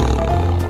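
A tiger's roar, a single sustained low rumbling growl lasting under a second, loud and close with no talking.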